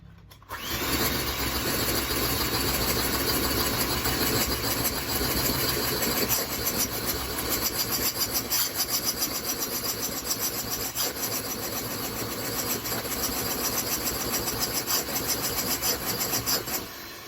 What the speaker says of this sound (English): you need to actually whisk the egg whites up until they become a stiff peak